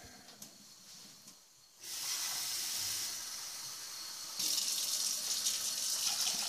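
Water pours into a kettle already holding oatmeal on a home stove, a soft splashing hiss that starts after a short pause and grows louder partway through as the stream strengthens.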